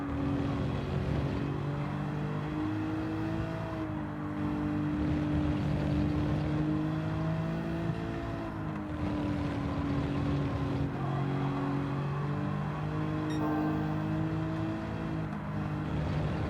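A Nissan Skyline R34 racing in Gran Turismo 7 on a cloudy track, engine droning steadily with rising and falling pitch through gear changes, continuous and close.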